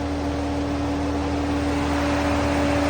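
A car engine with a misfire runs nearby, giving a loud, steady droning hum with a constant tonal whine and no pauses or voices.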